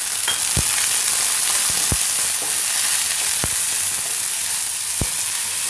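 Green chillies, onion and peas sautéing in a pan, a steady loud hiss of frying with a few sharp clicks of a spoon striking the pan, close up with no voices.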